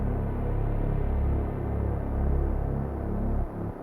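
A synth bass preset named Ethereal Wonders from Scaler 2 plays a deep, warm, throbbing low tone that swells and pulses softly, then cuts off near the end, with no voices.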